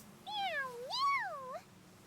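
A cat in the video game Octopath Traveler II lets out two clear, rising-and-falling meows in quick succession, close and alone against a quiet background.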